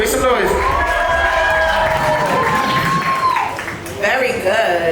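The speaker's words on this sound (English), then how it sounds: "make some noise, make some noise, make some noise." An audience at an interview stage cheers and applauds, a dense steady wash of clapping and shouts with voices rising over it, briefly dipping before swelling again.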